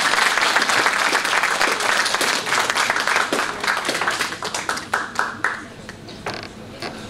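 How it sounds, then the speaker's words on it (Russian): Audience applause at a cultural autonomy gathering, dense clapping from many people that thins out toward the end into scattered individual claps. "Еще раз бурные аплодисменты."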